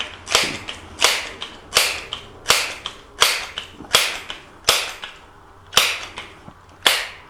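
A Crosman American Classic P1322 .22 caliber pump pellet pistol fires ten sharp, close, evenly spaced shots indoors, each a crisp crack with a short decay.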